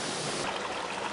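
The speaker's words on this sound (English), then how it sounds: "The water is pouring into these containers." Water pours into clam farming containers, a steady, close rushing splash with a constant broadband hiss and no voices over the brief stretch.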